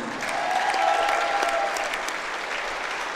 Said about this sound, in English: fans, please give a big round of applause for all of our seniors